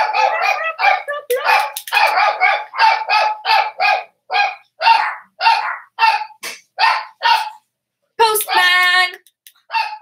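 Dogs barking at the postman, a rapid run of loud, close barks in quick bursts, with a yelp or howl near the end and no talk.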